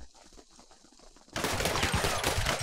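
Bursts of rapid gunfire from the GTA 5 video game erupt suddenly after a quieter stretch, loud and continuous volleys like a fusillade in a zombie-fighting mod.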